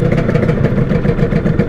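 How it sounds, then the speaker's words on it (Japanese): Honda NSR250 motorcycle engine running at a steady idle after a CDI replacement, a loud, continuous low rumbling burble with even rapid pulses and no revving. "うん、アイドリングしっかりしてますね。"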